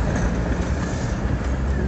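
A tram passes along a street in Odessa, its steady broadband rumble and rail noise continuous and fairly close, with a faint voice underneath.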